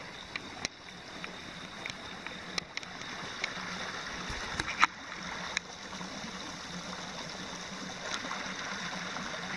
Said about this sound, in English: Water's been flowing pretty steady for the past couple of hours.